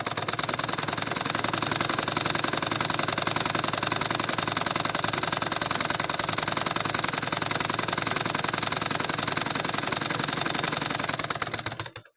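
A sewing machine running a double line of stitching over an existing seam on a cotton lining blouse, a steady rapid mechanical chatter held continuously and close, slowing and stopping at the very end.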